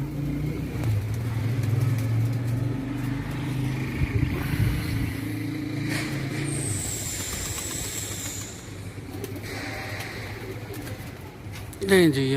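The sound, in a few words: pigeon landing and cooing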